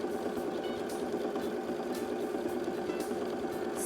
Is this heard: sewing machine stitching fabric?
yes